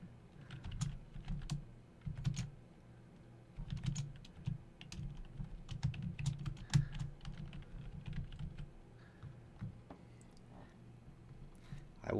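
Typing on a computer keyboard while entering text in Microsoft Word. Quiet, close key clicks come in uneven bursts with short pauses, and a louder tap stands out now and then, like the Enter key.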